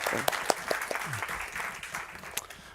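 An online demo-day audience gives light applause after a talk, soft, patchy clapping with a voice speaking over it.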